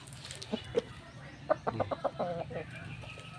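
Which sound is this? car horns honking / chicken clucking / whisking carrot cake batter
chicken clucking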